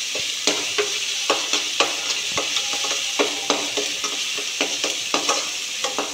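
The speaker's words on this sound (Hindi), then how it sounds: "तो यहाँ पे मसाले भुन गए हैं" Spices fry in a pan for namkeen, giving a steady sizzle under regular scraping strokes of a spoon stirring roughly twice a second.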